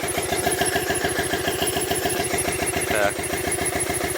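A Triumph T100 Bonneville motorcycle with zero miles that is having trouble starting cranks with a rapid, even chugging pulse. The engine sounds close and loud, with a brief word spoken partway through.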